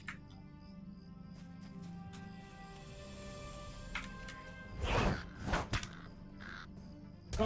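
Crows caw in Lord of the Rings Online, a few rough calls bursting out midway over a steady hum of game ambience, moderately loud and somewhat distant.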